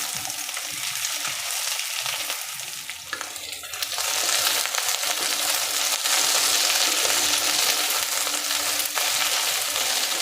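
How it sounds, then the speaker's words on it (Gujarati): Long okra strips frying over a full gas flame until crispy, a dense, loud, continuous sizzle that swells after a few seconds, with occasional stirring scrapes and no voices. "જેને પણ ફૂલ ગેસની ફ્લેમ પર જ સાતળવાનો છે, એકદમ ક્રિસ્પી થઈ જાય ત્યાં સુધી."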